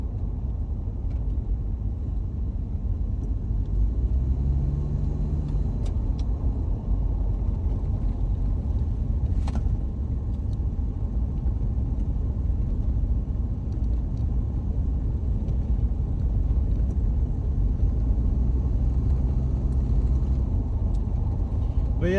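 A 1993 Toyota Hilux Surf cruises along New Zealand roads, giving a steady low engine and road rumble inside the cabin with no breaks and only faint occasional clicks.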